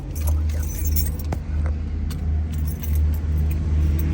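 Keys jingle and clink briefly inside a 1974 Chevrolet Corvette convertible over a steady low engine hum, with a person speaking nearby.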